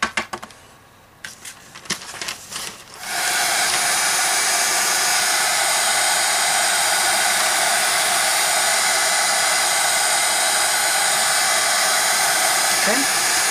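A heat embossing tool blowing hot air onto a mixed-media tile, a loud close steady whooshing drone that starts after a few seconds of light clicks and handling and then holds without break.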